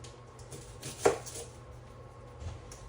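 A knife chops a shallot on a cutting board in a home kitchen with one sharp, distinct cut standing out among faint quieter taps over low room noise.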